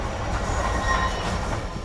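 Rolling rumble and rattle of a freight train with new wagons passing at Paliganj station in Pakistan, loud and close, a continuous wash of wheel and carriage noise with faint rhythmic clatter.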